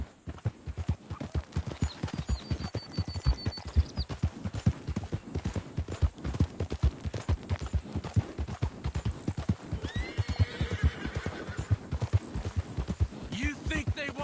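Horse hooves clip-clop steadily throughout in Red Dead Redemption II, with a horse whinnying and neighing near the middle, while people talk over the rhythmic hoofbeats.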